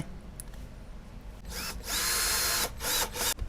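A power drill drives screws into a 15-inch bass speaker cabinet, giving a loud whirring burst of about a second, then a shorter second burst after a brief pause, over low workshop background noise.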